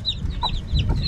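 A hen clucks softly in a few short, close calls over a low background rumble.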